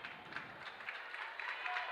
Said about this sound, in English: Nice round of applause for Charlie